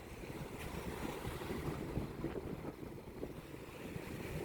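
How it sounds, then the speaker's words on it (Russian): Light wind gusts across a narrow, empty seaside beach with choppy waves, producing a soft, continuous rushing and buffeting against the microphone, faint and without any voices. "Слегка ветрено."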